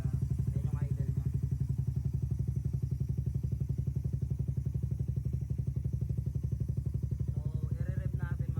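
A Honda Raider 150 Fi motorcycle fitted with a Yoshimura GP-Force exhaust idles steadily, a low, even, rapid thumping pulse heard up close, with faint talk briefly at the start and end.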